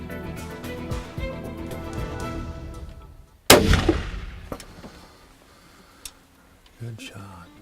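A single loud, sharp rifle shot at a mature eight-point buck during a deer hunt cracks out mid-scene and fades into a short echo. Quiet speech can be heard before and after.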